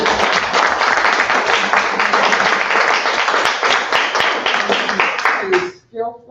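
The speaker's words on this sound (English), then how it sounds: "y'all need to give her a round of applause" A community meeting audience claps for a woman for about five and a half seconds, a dense, steady burst of applause that cuts off abruptly, followed by a moment of quieter sound.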